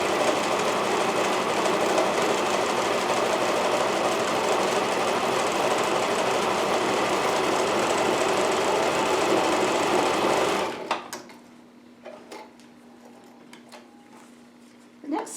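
A sewing machine stitches a quarter-inch seam along the curved edge of the inner fabric of a cloth face mask, running loud and steady for about ten seconds, then stopping, followed by a few quiet handling clicks.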